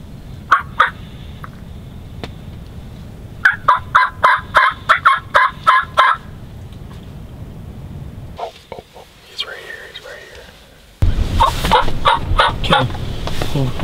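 Wild turkeys gobble repeatedly on a Nebraska hunt, with bursts of several loud, rapid gobbles in quick succession, a pause, and then another close, loud volley.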